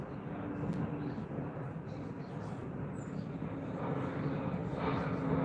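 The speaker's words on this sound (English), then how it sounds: "Sounds like a bigger plane to me, but let's see." A steady, broad engine roar of a large airplane passing overhead, continuous and fairly loud throughout, swelling slightly toward the end.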